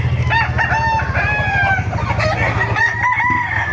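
A rooster crows loudly at a busy chicken market in Baliuag, Bulacan, several drawn-out calls close by, with hens clucking and the murmur of the market around them.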